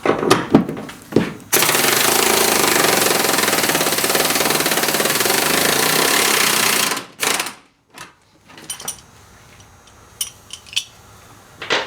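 A loud, continuous impact wrench rattles for about five seconds driving out Loctite-coated bolts on the front seat airbag module of a Silverado/Sierra/Yukon truck, then stops, followed by a few scattered clanks of tools and parts.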